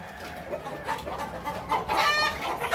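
KUB chickens on a chicken farm cluck repeatedly at close range, with overlapping hen calls and a louder burst toward the end over a busy barn background.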